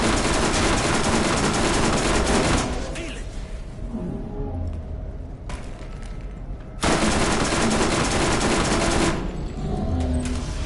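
SMG gunfire from the Borderlands 1 shooter, sustained dense bursts of rapid automatic shots up close, pausing briefly mid-clip before another loud continuous burst and further firing.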